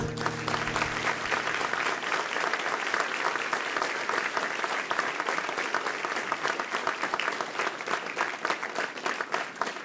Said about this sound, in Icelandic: þær eiga skilið lófatakið